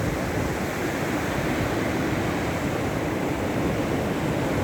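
Foamy waves of the stormy Baltic Sea crash and churn continuously, a dense, loud, unbroken roar of surf with no voices.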